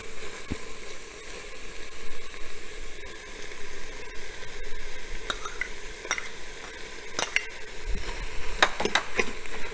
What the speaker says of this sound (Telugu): జస్ట్ ఒకసారి మిక్స్ చేస్తానండి అన్నీ టుగెదరు.